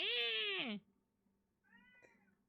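A pet cat named Beans gives one loud, drawn-out meow close by that falls in pitch at its end, then after a pause lets out a second, softer and shorter meow.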